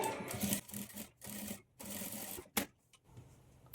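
A sewing machine runs top-stitching along folded-in blouse fabric for a Madhubala-style blouse, buzzing in several short close bursts separated by brief pauses, with no talking.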